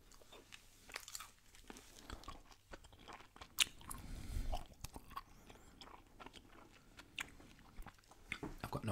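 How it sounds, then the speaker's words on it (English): Gum chewed with the mouth open, close and quiet wet smacks and clicks at an irregular pace, with crinkly mouth noises and no talking. "I'm probably going to chew a bit more with my mouth open just so we can get the sounds"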